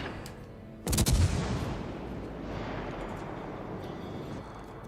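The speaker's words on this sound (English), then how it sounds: "Might get one more salvo before I have to turn out." Battleship main-gun salvo in the World of Warships naval game, a single heavy booming blast with a long rumbling decay, loud and close against steady ambient wash, no talk.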